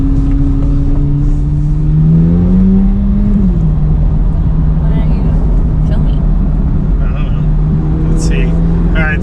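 A 670-horsepower Corvette C8 Z06 sports car drones with a steady engine note that shifts in pitch partway through, as if changing gear, under constant road and wind noise while driving.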